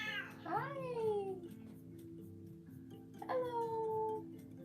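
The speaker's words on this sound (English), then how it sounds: "My cat Olive just woke up" A cat waking up gives two drawn-out meows, the first rising and falling, the second a shorter call about three seconds later, heard close against a steady low background hum.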